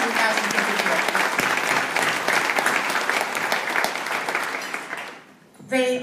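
A crowd at an Education is Key 2017 nonprofit gathering claps in dense, sustained applause for about five seconds. The applause fades near the end, and a voice starts speaking right after.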